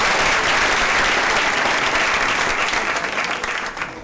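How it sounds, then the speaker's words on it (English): Dense, loud audience applause at a scholarship awards event, a full sustained round of clapping that tapers off toward the end. "Another round of applause for the"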